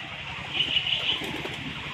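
A pigeon is let go by hand and flaps its wings in a brief, close flurry lasting about a second over faint background noise.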